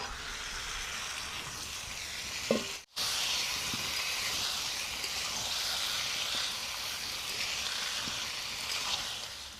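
Marinated duck meat hits a hot pan with onions and sets off a steady, close hiss and sizzle. A brief clunk and short break come early, then the frying carries on evenly.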